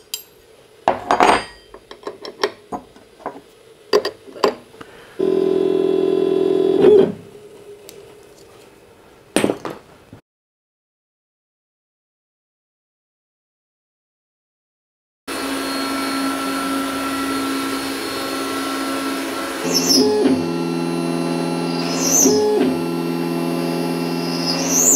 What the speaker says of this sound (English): the first operation on this side is going to be drilling the pilot holes in the heel